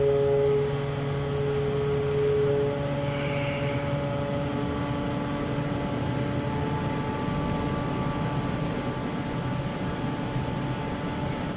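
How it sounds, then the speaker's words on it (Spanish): A steady, loud mechanical drone of a York chiller's condenser fans and machinery starting up, with tonal hum, running continuously without pause. "Ahí arrancaron los ventiladores del condensador"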